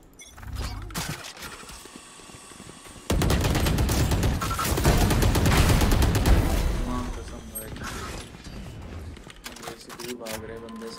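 Rapid automatic gunfire from the game CS:GO erupts suddenly and hammers on loudly for several seconds, with scattered shots before and after, while someone talks over the action.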